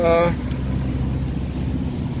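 Twin engines of a 1989 Bayliner 3288 boat running at 2,000 RPM, a steady low droning rumble throughout, with a brief tonal voice-like sound at the very start.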